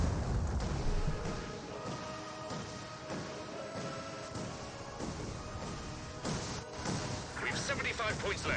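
Land Mattress rocket barrage in Company of Heroes 2, a dense rolling run of booming rocket impacts and crashes continuing throughout amid battle noise, with a voice talking over it.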